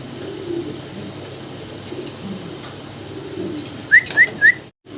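Racer pigeons at a pigeon market make a low, steady cooing, then three quick bright chirps sound close together near the end over faint background noise.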